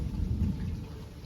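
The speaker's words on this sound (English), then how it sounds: "It's just raining." Heavy rain with a deep rumbling low end like distant thunder, a steady loud wash of noise without pauses and no voices.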